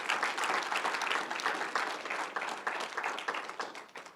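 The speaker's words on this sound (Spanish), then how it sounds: "Denle aplauso al Señor" A church congregation applauds with sustained, dense clapping from many hands, loud and continuous before easing slightly at the end.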